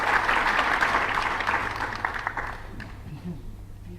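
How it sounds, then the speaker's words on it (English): An audience applauds warmly to welcome Ivar Asjes, Prime Minister of Curaçao, with dense, steady clapping that fades toward the end, mixed with some crowd murmur. "Let's receive him with a warm applause, ladies and gentlemen."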